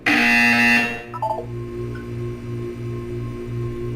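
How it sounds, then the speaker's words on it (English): A loud harsh buzzer in the video game Portal 2 blares for about a second, then cuts off, leaving a soft pulsing electronic hum and faint tones. "You will hear a buzzer."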